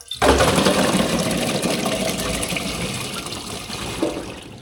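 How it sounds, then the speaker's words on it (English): Freshly harvested olives are rinsed in a bowl of water, a loud, continuous sloshing and splashing of water and fruit with occasional clunks, heard up close with no talking. "So I'll just go and give these a rinse off a minute."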